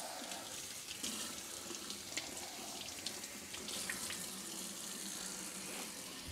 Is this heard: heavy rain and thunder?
no